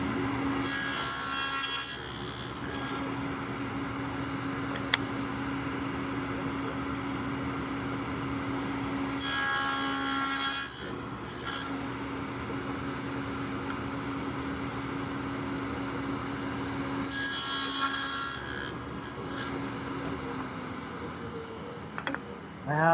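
A wooden jewelry box side has rabbets cut in it in several separate passes. Each pass is a short burst of harsh sawing and rubbing over a steady machine hum, with quieter gaps between the passes.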